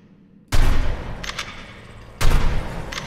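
Gunfire in a dinosaur survival video game while shooting wolves: two sharp, loud bursts of rapid shots, each with a booming onset and a decaying tail, separated by a short lull.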